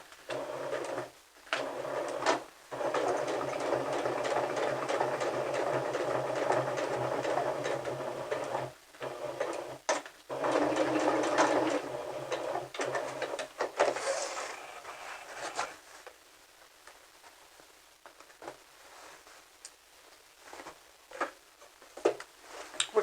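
A sewing machine back-stitches along a clutch purse seam, whirring close in long even runs with brief pauses, then gives way to quiet handling clicks and fabric rustle.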